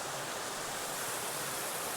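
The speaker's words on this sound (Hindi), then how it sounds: "तो फिलहाल अभी आपको यहाँ से पानी का साउंड सुनाई दे रहा होगा।" Water rushes steadily over a waterfall at a picnic spot at Aman Dhara in Hazaribagh, a dense, continuous roar close by with no voices over it.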